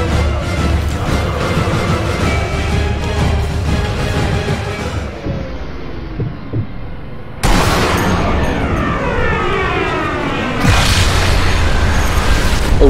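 Tank explosions in the video game Sniper Elite V2 roar as heavy, sustained booms with rumbling low end, and loud fresh blasts burst in partway through and again near the end, with no talk over them.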